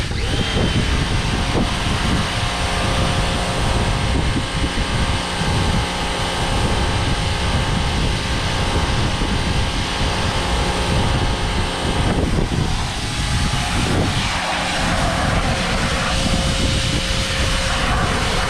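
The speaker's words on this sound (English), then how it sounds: "It's like a true test of how this power washer works." A power washer runs on a barn-find rare mini truck, its engine giving a loud, steady, close-up drone with a bright hiss that holds throughout and shifts slightly in tone toward the end.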